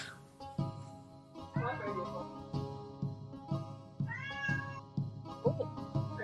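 Pet cat meowing repeatedly, a few distinct drawn-out meows, fairly close, over a steady background hum.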